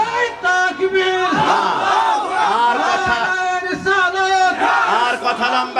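A large crowd at a religious gathering chants loudly in unison in response to a Takbir call, several rising and falling shouted phrases repeating in rhythm.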